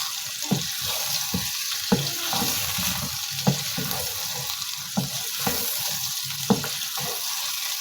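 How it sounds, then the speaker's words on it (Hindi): Chicken sears over high flame in a pan, a constant close sizzle broken by sharp periodic spatula knocks and scrapes against the metal as the pieces are stirred and turned. "चिकन इसमें ऐड करने के बाद इसे अच्छी तरह से मैं भून लूँगी"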